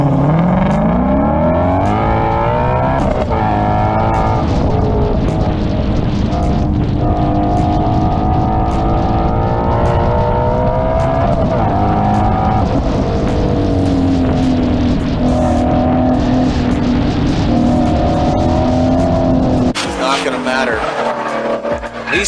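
A Ford Mustang GT350 and a Nissan GTR stage for a drag race at a spectator drag event, engines droning loudly and steadily for a long stretch with shifting revs, ending in a sharp burst, while a commentator talks over the noise.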